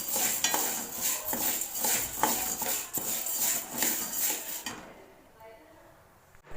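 Urad dal being stirred while roasting slowly in a pan, heard as rhythmic metallic scraping and clinking strokes about twice a second, fairly close, until the stirring stops near the end.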